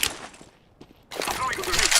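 A flashbang grenade goes off in a shooter video game: a short sharp crack, a near-silent pause, then a loud sustained burst of crackling, ringing noise, with a voice talking underneath.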